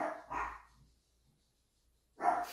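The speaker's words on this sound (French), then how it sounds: "si vous entendez des chiens, c'est normal, c'est pas grave" Dogs barking in a couple of short bursts, one at the start and another near the end, with quiet between them.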